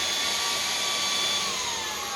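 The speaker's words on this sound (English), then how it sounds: "on high power, I can definitely feel the suction pulling this thing down to the carpet" A MOOSOO K17 Pro vacuum cleaner runs on high power over carpet, giving a steady, close motor whine with a rushing airflow hiss. The tone shifts slightly toward the end, with no voices.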